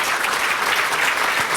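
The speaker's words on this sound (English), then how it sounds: "Please give the panelists a warm round of applause." Warm applause from a conference audience for panelists at the close of a data science and machine learning panel, a dense, even wash of clapping throughout.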